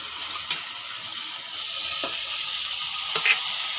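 Mutton pieces sizzle and fry in a pan over sautéed onions, a steady soft hiss with a few brief louder crackles and stirring clatters, heard alone.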